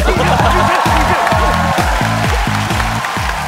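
Studio audience applause at a KBS Gag Concert comedy show, a loud dense wash of clapping and crowd noise with a rhythmic thumping beat running under it throughout.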